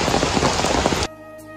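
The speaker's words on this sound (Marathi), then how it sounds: "जस्ट पावसात सुरुवात झाली पुढे" Heavy rain pours down outdoors with a dense, steady hiss for about a second, then stops abruptly, leaving a faint low hum.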